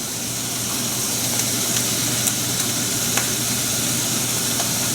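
Shrimp poaching in very hot liquid for Chinese crisp velvet shrimp, a steady close bubbling hiss with faint occasional ticks and no talking.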